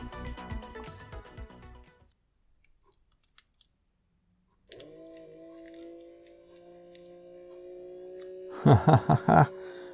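A small electric motor in a Kenner Knight 2000 toy car starts up after a few clicks and spins with a steady, thin whine, close by, followed near the end by a burst of rapid rattling taps.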